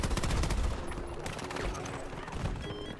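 Sustained automatic gunfire from the shooter game Battlefield 2042, loud and continuous, with rapid overlapping shots and a voice speaking briefly beneath the barrage.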